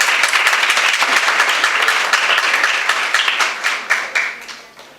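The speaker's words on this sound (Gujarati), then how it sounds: "મનીષાબેન માટે બધા તાળીઓ પાડો ભાઈ" Audience at a chess tournament prize ceremony in Bhavnagar applauds for Manishaben, a dense, steady wash of many hands clapping that thins into scattered claps and fades toward the end.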